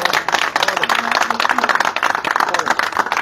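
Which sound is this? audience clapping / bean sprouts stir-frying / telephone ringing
audience clapping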